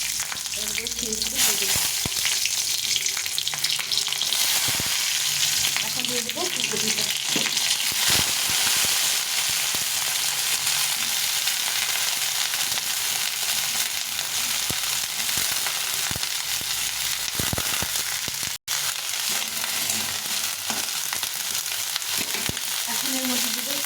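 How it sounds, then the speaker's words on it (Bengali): Nigella seeds and green chilies fry in hot oil, giving a continuous loud sizzle and crackle throughout with occasional stirring scrapes, close up. "তেলটা গরম হয়ে গেছে এখন একটু কালো জিরা নিয়েছি আর এই কাঁচা লঙ্কাগুলো একটু ফাটিয়ে দিচ্ছি"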